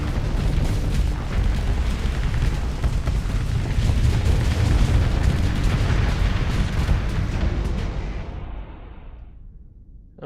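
A ship explodes in a video game with a loud, sustained rumbling blast that churns for several seconds, then fades to silence near the end.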